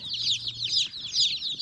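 Dozens of newly delivered baby chicks peep continuously in a shipping box, a dense, high chorus of overlapping chirps that stays loud and close throughout with no talking.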